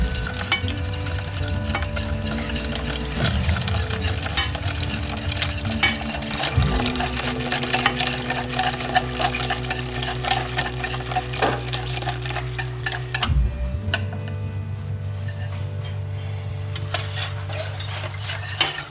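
Milk being stirred into chocolate cream pie filling in a pot, with a steady whisk or spoon scraping and clinking against the metal and soft liquid swishing throughout, close and continuous with no talking.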